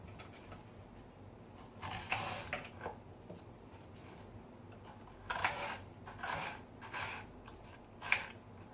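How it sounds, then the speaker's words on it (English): A knife cuts an onion for a homemade vegetable salad, with a few soft chopping strokes in short clusters against a faint room background and no talk. "So next I'm going to cut my onion."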